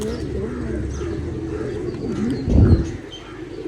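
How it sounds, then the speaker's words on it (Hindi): Soft pigeon cooing repeats at a mini zoo under a faint background murmur, with a louder low burst of sound near the end. "ये कबूतर हैं"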